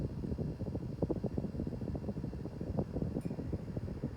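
A Hampton Bay Redington IV 52-inch brushed steel and gloss black ceiling fan runs with a small motor, giving a steady soft whir and a faint rhythmic pulsing close by, with no talking.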